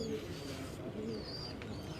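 Patti wala (banded) pigeon cooing on a rooftop in Qazi Ahmed, Sindh, a soft low continuous coo over steady background noise, with faint voices nearby.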